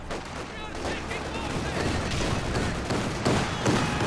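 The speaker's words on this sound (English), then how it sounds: "Double Zis barrage as well." A double ZiS-3 artillery barrage in a Company of Heroes 2 match produces dense, continuous rumbling explosions and gunfire that build slightly in intensity, layered with battlefield noise throughout.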